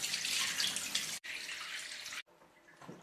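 Olives being rinsed under running water, a steady splashing stream from a tap that breaks off twice briefly and comes back fainter at the end.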